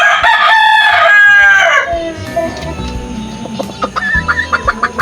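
A Lacy Roundhead rooster crows loudly and close by in a backyard in a long harmonic call, followed by scattered clucks and faint background sounds.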